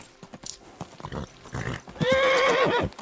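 A horse in a video game set in Bohemia neighs loudly in a long whinny after a few soft hoof clops, with the clip brief and clear.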